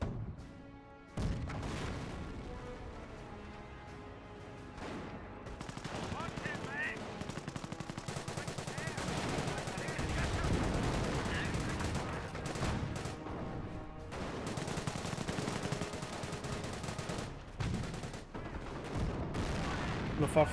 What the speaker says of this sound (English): We do have these Luftwaffe ground forces firing away.